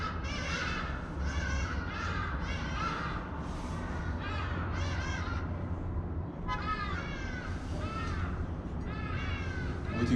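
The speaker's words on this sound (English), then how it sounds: "Waiting for the birds to stop." Birds call outdoors in repeated harsh, crow-like caws, several overlapping bursts in quick succession over a constant low rumble, loud and close throughout.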